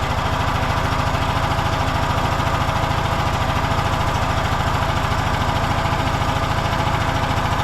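A small engine with a fairly large carburetor idles steadily and loudly up close, its rapid low putter rising and falling slightly as it surges.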